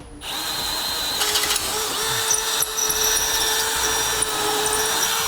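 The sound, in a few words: drilling pilot holes larger in Honda CR-V frame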